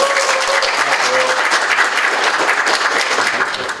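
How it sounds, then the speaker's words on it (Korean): Audience at a lecture hall welcomes KBS reporter Park Jong-hoon with loud, sustained applause, a dense wash of clapping from a full room, with a brief voice at the start. "KBS 박종훈 기자님 모실 때 큰 박수로 맞이해 주시면 좋겠습니다"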